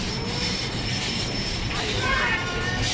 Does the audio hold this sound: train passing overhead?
yes